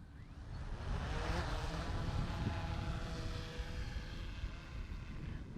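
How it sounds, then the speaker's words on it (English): A drone with retractable landing gear lifts off, giving a steady, fairly faint buzzing propeller whir that swells slightly and then holds, with no talking. "I'll just go ahead and take off so you can see it taking off"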